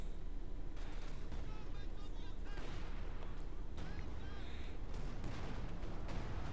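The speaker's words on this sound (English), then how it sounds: "Zis still shooting the Panther" A ZiS anti-tank gun fires repeatedly at a Panther tank in the Company of Heroes 2 video game, booming shots sounding over dense continuous battle noise with distant gunfire.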